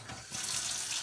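A kitchen tap runs steadily into a sink in a Soviet-era apartment kitchen in Siberia, filling the air with a broad close hiss that grows slightly louder partway through as the flow strengthens, with no voices.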